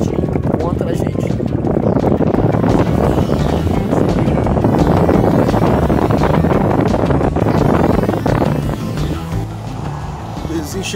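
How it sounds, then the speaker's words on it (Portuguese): Strong wind buffets the microphone aboard a sailboat on a sailing route between Cabo Frio and Araruama, a loud continuous roaring rush with water noise and voices talking throughout. "O vento tá certinho contra a gente."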